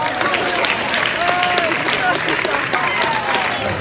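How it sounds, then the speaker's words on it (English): At a high school all-night grad party hypnotist show, the crowd gives a sustained round of applause, a dense steady clatter of many hands mixed with cheering and chattering voices throughout. "These people a great round of applause."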